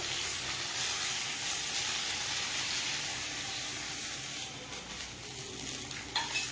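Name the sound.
vegetables frying in a pan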